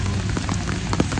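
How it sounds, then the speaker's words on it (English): Heavy rain pouring down steadily on a walk toward the Meiji Jingu Shrine in Tokyo, Japan, a dense close hiss of drops hitting the ground and surfaces, loud and constant with no voices. "it's raining a lot"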